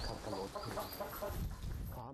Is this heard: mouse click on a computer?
no